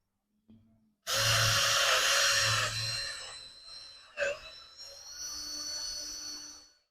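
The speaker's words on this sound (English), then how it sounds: "I'm going to drill a hole right here." Power drill boring a hole in wood for a raised garden bed, a brief tap then a loud whining spin that dips, stops with a knock and resumes more quietly, close by with no talking.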